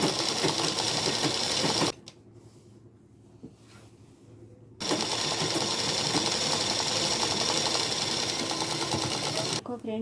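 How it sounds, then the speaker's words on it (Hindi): Domestic sewing machine running a straight seam on a salwar, a loud steady mechanical whirr that pauses briefly midway and then resumes at full speed, close up and without talk. "अब मैं यहाँ से सीधी सिलाई लगाऊंगी सेंटर तक।"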